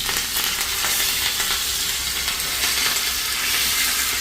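Sesame seeds, green chili pieces and curry leaves crackle and hiss in hot tempering oil for sorghum dhokla, a steady close sizzle with no voices over it.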